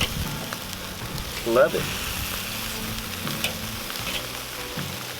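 Chicken wings sizzle over a hot fire on a Weber kettle grill, a steady loud crackling fry hiss throughout, with a brief voice and a small clank partway through.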